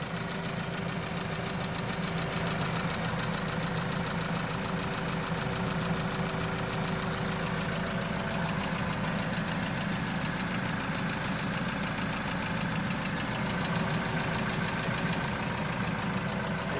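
Vauxhall Corsa Ecotec car engine idling after a start, a steady close drone with a faint rattly knock, unbroken throughout with no talk.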